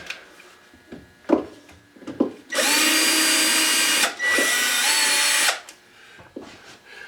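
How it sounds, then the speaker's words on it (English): A power drill on slow speed whirs in two sustained bursts of about one and a half seconds each while loosening screws, with light tool clicks and handling sounds around them. "mount that in my drill, make sure I set it to the slow speed."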